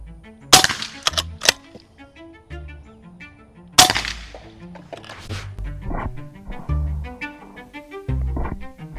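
AEA Megalodon .357 (9 mm) big-bore air rifle fired twice, each shot a sharp loud crack with a quick decay, with clanks, handling noise and short barks in between.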